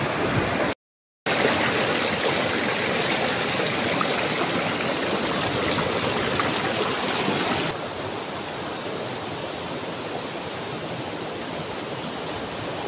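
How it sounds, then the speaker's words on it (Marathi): Water rushing steadily at a waterfall and stream near Neral, a dense broadband roar that fills the whole clip with no voices, briefly cutting out once early on, then continuing slightly softer in the latter part. "पाण्याचा आवाज"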